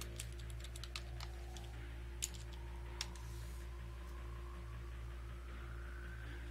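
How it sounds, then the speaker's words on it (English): Quick clicks of a computer keyboard typed by a player during a Grand Theft Auto V Online match, a fast run of keystrokes then a few scattered taps, faint over a steady electrical hum. "I'm gonna type to these guys real quick."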